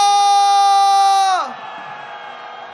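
Protest crowd at a candlelight march in Seoul calling for Yoon Suk-yeol's impeachment lets out a loud, sustained collective shout, which then drops to a fainter murmur of voices.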